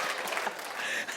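A television talk show studio audience claps in a dense, steady burst of applause, loud and close, lasting the whole moment without pause.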